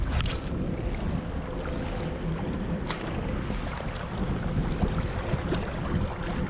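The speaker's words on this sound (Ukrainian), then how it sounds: "Присутній дуже неприємний боковий вітер, який нам сьогодні буде заважати ловити." Strong side wind buffets the microphone in a continuous roaring rush, with gusts rising and falling and faint water sounds underneath, on a riverside embankment in Kyiv.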